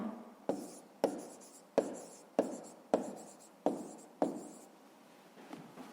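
A pen writing numbers on paper during a fifth-grade maths exercise, heard as about seven crisp, separate strokes in an uneven rhythm, close and fairly quiet, with no talking.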